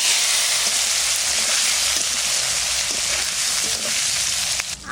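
Dried red chilli, bay leaf and panch phoron spices sizzling in hot oil for a sour mustard fish curry, a steady bright crackling hiss close by with a few small pops and a soft stir near the end.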